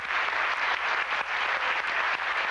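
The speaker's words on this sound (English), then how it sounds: "Let's give them a nice round of applause." An audience applauds after a live stage performance, a steady dense wash of clapping with a few sharper individual claps, sustained throughout without voices.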